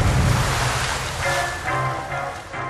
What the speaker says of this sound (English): Janus II crashes into the waves with an explosive spray.